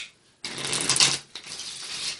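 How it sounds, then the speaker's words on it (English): A pack of playing cards shuffled during a magic trick: a loud, close riffling flutter lasting about a second, followed by a softer second riffle. "let's just give the pack a shuffle."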